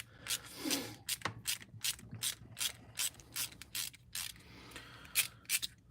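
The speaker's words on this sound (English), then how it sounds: "I use that as the wrench to hold the pivot steady while I remove the screw on the opposite end." Pivot screw being backed out of a Leatherman multitool, a rapid series of sharp metallic ratchet clicks in quick bursts with short pauses, close and fairly quiet, no talking.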